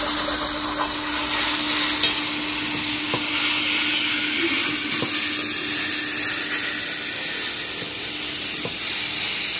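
Banana flower (mocha) being stirred in a pan, a steady close sizzle and frying hiss with occasional soft scrapes and taps of the spoon, no talking.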